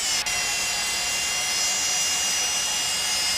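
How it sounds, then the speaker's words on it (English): Jet engine spool-up in a home cockpit flight simulator, number 2 engine igniting: a steady loud turbine whine with layered high tones, continuous and close with no talk over it. "we got a good ignition of the number 2 engine"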